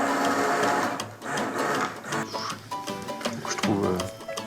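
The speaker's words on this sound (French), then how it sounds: "Je vais commencer à mixer." A kitchen blender purées a broth of loche grisette fish and sweet potato into a velouté, whirring loudly in bursts that rise and dip as the mixture thickens.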